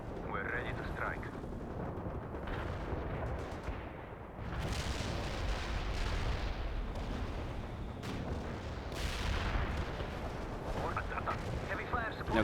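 An artillery fire support strike in the World in Conflict strategy game, with a continuous rumbling barrage of heavy, overlapping explosions and booms that swells and stays loud throughout.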